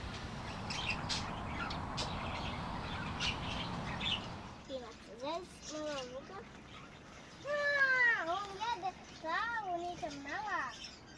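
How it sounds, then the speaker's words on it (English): Budgies chirp and chatter in an aviary, a run of rising and falling whistled calls that grows busier and louder toward the end, after a few seconds of diffuse background noise. "Their little chirps, songs, and chatter, it's like nature's therapy."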